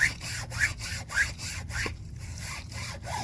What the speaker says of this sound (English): you keep scrubbing it down until you get all the cotton out, dirt out